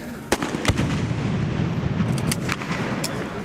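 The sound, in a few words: gunfire exchanged from both sides during police raid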